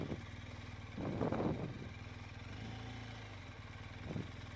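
A motorcycle creeps along slowly on clutch and throttle alone, its engine idling low with two short throttle blips rising and falling, close by and without speech.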